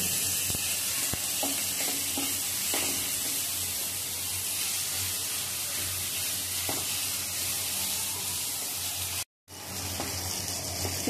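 Onions softening in oil in a pan, a steady close hiss and sizzle that continues throughout, with a few faint stirring taps and a brief cut near the end.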